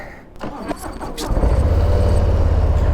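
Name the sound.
2022 Harley-Davidson Low Rider S motorcycle engine starting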